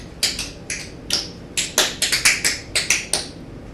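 Crisp tap shoe strikes in a quick time-step pattern, the third variation, about a dozen sharp metallic clicks in uneven clusters, close and alone with no talking.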